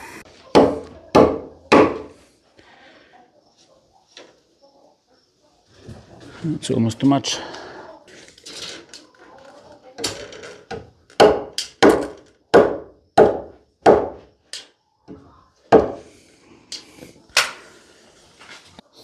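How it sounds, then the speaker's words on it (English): Sharp hammer blows drive nails into wooden studs of a rabbit hay storage box, struck in quick bursts of three or four, with a person talking briefly between the bursts. "I can continue to nail the studs into place."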